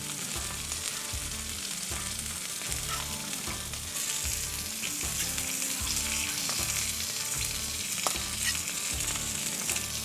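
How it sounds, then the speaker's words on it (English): Beef tallow sizzles and crackles on a hot flat-top griddle, a constant close hiss over a repeated low rhythmic thumping in the background, with no voices. "I'll lay down a little bit of beef tallow."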